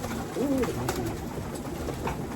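Racing pigeons coo softly in a loft during a race, with one low, rolling call standing out early over steady background noise.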